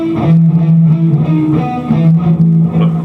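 Electric guitar plays the closing phrase of a solo, loud sustained bent notes with a slightly distorted tone, alone without talk.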